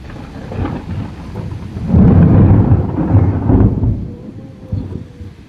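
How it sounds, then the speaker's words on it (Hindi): Deep rolling thunder rumbles through steady rain, swelling loudly in the middle before fading back to the constant patter of the downpour. "बादल कड़क रहे हैं, बादल बरस रहे हैं और बिजली कड़क रही है ना।"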